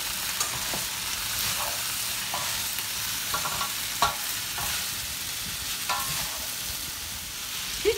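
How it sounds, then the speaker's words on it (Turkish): Pasta being stirred in a pan with soy sauce, frying with a steady sizzle and intermittent scraping stirs, close and continuous without any talking. "Şimdi artık bu son aşamada makarnamızı da koyuyoruz."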